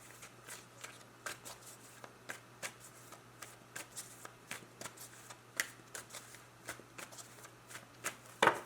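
Tarot cards are shuffled and drawn by hand, a series of quick, soft, close riffling and slapping bursts in an irregular rhythm, with no talking.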